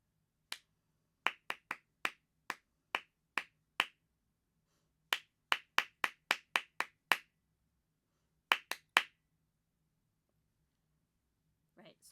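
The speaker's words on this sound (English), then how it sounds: "I'm going to clap the rhythm for those 3 measures" A single person's hands clap out a rhythm for three measures, sharp isolated claps in short grouped bursts separated by silent gaps, close and clean in a quiet room.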